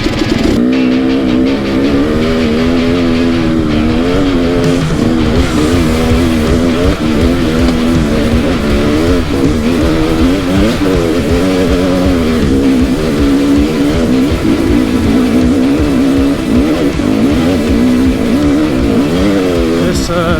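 A KTM dirt bike ridden along a single-track trail, its engine droning steadily and loudly throughout with a wavering pitch as the throttle rises and falls.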